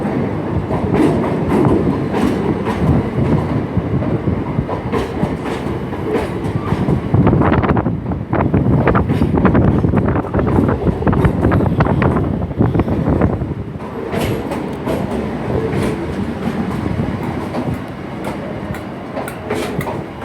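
ScotRail Class 318 and Class 320 electric trains at a Glasgow Central platform rumble steadily and loudly, with wheel clatter, rail clicks and a constant low drone.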